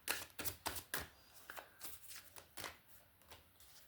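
A deck of tarot cards being shuffled close up in a quiet room, a steady series of crisp riffling bursts and soft slaps, each about half a second apart, with no voices.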